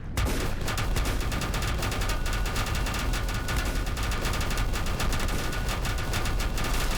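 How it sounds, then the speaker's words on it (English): Sustained, dense gunfire from weapons in the video game Volcanoids, loud and continuous across the whole stretch, with rapid overlapping shots and no talking over it. "we're shooting these things at these guys"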